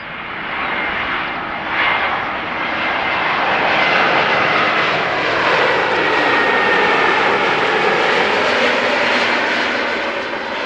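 An Azzurro d'Italia Airways airliner arriving at Amsterdam Schiphol on runway 06, its engines roaring loudly and steadily as a broad, continuous rush that swells slightly and holds throughout, with no talk.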